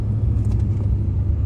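An LBZ Duramax diesel truck coasts down with no throttle or brake, giving a steady low engine rumble and road drone heard from inside the cab.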